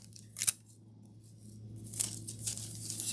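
Scissors cut a piece of gilding sheet for sign work, two crisp, close snips about a second and a half apart, followed by light rustling of the metal leaf in a quiet room.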